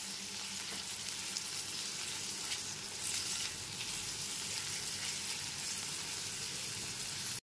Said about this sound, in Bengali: গ্যাসের ফ্লেমটা মিডিয়ামে রেখে হালকা করে ভেজে নিতে হবে।